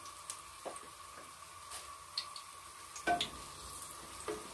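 Onion fries in very hot oil with a steady, fairly faint sizzle. Occasional soft pops and spatters and a brief clink of a utensil break through near the middle.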